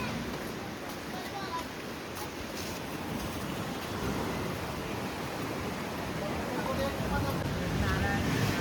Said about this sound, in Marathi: किती वारं छान आहे ना काकी